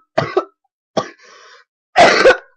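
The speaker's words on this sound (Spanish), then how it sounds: "Ay, ay, no me deja esta tos" A person coughs loudly and harshly up close in three separate bursts, the middle one trailing off with a raspy throat sound, during a Spanish-language radio show.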